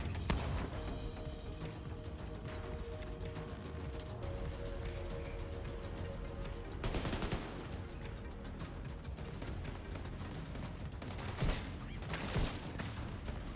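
Video game firefight gunfire crackles in rapid, sustained volleys with scattered sharper shots and a couple of louder bursts, moderately loud over a steady backdrop of game noise.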